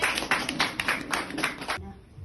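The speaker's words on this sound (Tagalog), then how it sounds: "Palakpak sa Panginoon." A worship audience claps in praise to the Lord in a burst of quick, fairly close, rhythmic handclaps lasting under two seconds, then stopping abruptly into quiet room tone.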